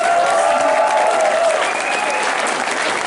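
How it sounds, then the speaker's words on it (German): Sustained audience applause, a dense wash of clapping from a crowd filling the whole stretch. "wir haben natürlich euren Applaus"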